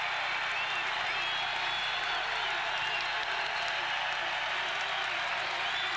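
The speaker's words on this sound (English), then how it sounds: "Southern has to find a way to quiet this crowd" A steady, dense roar of a home crowd cheering at a college basketball game between Southern Illinois and Southwest Missouri State, sustained and loud throughout with no break, filling the arena.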